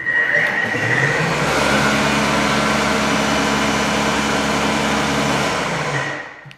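A Ryobi electric snow blower runs in a steady loud whir that lasts several seconds, then winds down at the end, with no talking over it.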